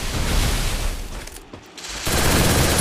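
Rapid automatic gunfire from an MP40 submachine gun in the mobile battle royale game Free Fire during a custom-room match, loud bursts filling most of the moment with a short quieter gap in the middle.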